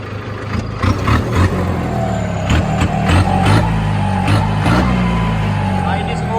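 A Arjun 605 turbo tractor with a leaking oil pipe runs its engine with a steady low rumble and slight swells in revs, close by, with voices talking over it.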